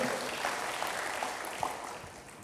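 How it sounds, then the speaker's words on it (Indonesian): A church congregation claps for God after the sermon, a soft, distant patter of many hands blending into a steady murmur. "Berikan tepuk tangan bagi Tuhan, haleluya."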